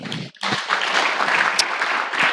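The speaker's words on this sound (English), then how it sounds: "I think we need another round of applause." Audience applause at an agroecology side event, a dense, steady patter of clapping that starts after a brief gap and holds loud and even throughout.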